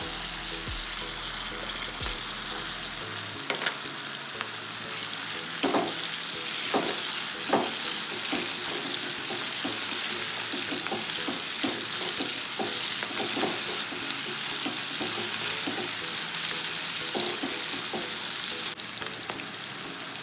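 Dried ghee-fish (karuvadu) fries with onion and green chili in a pan, a steady close sizzle with frequent scraping stir strokes throughout, no talking.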